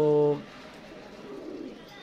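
A pigeon gives a brief, close coo at the very start, followed by quiet background noise, at a pigeon keeper's rooftop loft.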